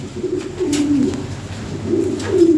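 Breeding pigeons of a fancy European Lahore breed coo in low, rolling phrases close by, two drawn-out bursts with faint background noise and no talk.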